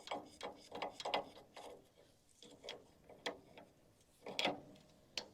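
Spanner ratcheting on a bolt head under a harvester front, held from above with a screwdriver: a series of quiet, close metallic clicks and turns in short irregular bursts, with no one talking.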